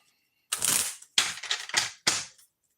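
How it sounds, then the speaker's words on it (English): Tarot cards are shuffled in close, crisp riffling bursts, three or four separate papery rushes with brief silent gaps between them and no voice. "as I'm shuffling"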